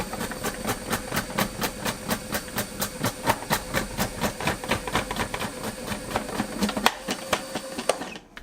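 A Braun FP3020 12-cup food processor runs and slices, with a steady mechanical whir broken by rapid, regular rhythmic thumps from the blade, loud and close, ending abruptly as it is switched off.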